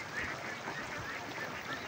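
Ducks honk with goose-like calls in a rice field with flocks of several hundred birds, a steady faint chorus of overlapping honks at some distance.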